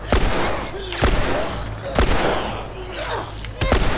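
Repeated loud gunshots from the video game The Last of Us Remastered, four sharp blasts spaced about a second apart, each followed by a short ring-out under busy game sound.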